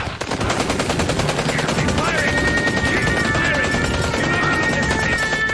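Dense, continuous machine-gun fire and volleys in a Doctor Who audio drama battle scene, loud and unbroken throughout with a high electronic whine rising over the shooting.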